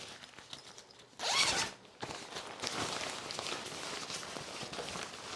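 Zipper on a film changing bag being pulled open, one quick loud rasping zip followed by softer rustling and handling of the fabric bag, with no talk.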